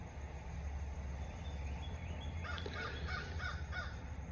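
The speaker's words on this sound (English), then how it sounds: "If you can, you heard a crow." A crow caws outdoors, several hoarse calls in a short rhythmic burst at moderate distance over a steady low rumble of background noise.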